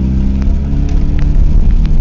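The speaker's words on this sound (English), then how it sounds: "This is the last ride in my old Omni Charger." A 1987 Dodge Omni Charger with a carbureted engine and automatic gearbox drives along, heard from inside as a loud, steady low engine drone with road rumble and faint rattles.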